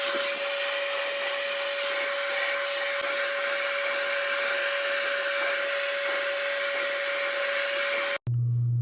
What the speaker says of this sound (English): hit it with the blow dryer for a second